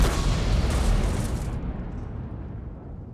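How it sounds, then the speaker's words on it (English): A huge tank gun fires once in World of Tanks with the bass boost sound option switched off, a loud deep boom that rolls out and decays over a few seconds. "Let's hear, firstly, with it off against the biggest gun in the game."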